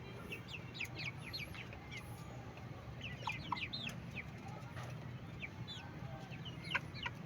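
Chickens raised for eggs cluck and chirp repeatedly at close range on a farm, with a steady rumble of background noise underneath and no talking.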